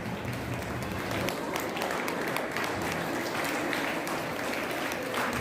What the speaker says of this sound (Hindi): तालियां बजती रहनी चाहिए जब तक दीप जलता है।